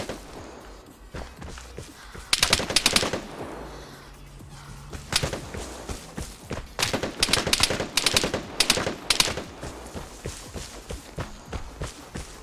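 Gunfire from the video game Vigor rattles in several close bursts, rapid shots separated by short pauses and quieter stretches.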